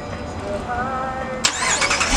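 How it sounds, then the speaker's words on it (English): A 2018 Dodge Durango R/T with the 5.7-liter V8 starts by remote: a steady low rumble, then a sudden crank and catch as the engine fires up close by and settles into a strong idle. "to start the car with the remote, you just click this button twice and it starts it right up"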